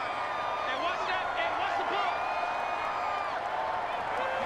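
Stadium crowd in Madden 21, a New York Giants vs Washington football game, a constant roaring wash of cheering with whoops and whistles drifting over it, steady and loud throughout.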